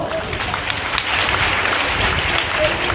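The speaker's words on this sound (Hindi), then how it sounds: "उनके लिए ताली बजाओ" A church congregation claps together during a Hindi sermon, a dense steady patter of many hands filling the room, with a voice speaking over parts of it.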